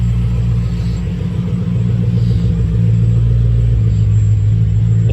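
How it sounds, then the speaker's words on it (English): A Toyota 1UZ-FE V8 car engine idles with a steady, loud low rumble throughout. It is running rough and misfiring, with no talk over it. "we got the car running, but the problem is the car is missing pretty bad."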